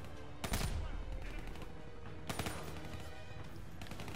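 Gunfire in Call of Duty: Black Ops 3 comes in two loud bursts about two seconds apart, separated by a dense rumble of game noise.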